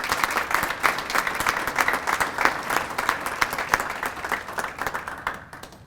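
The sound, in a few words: audience applause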